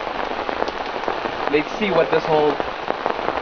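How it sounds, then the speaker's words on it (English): Heavy rain pours down at a riverside carp fishing spot, a dense steady hiss of drops hitting surfaces close by, with someone speaking briefly over it. "the rain is pouring down"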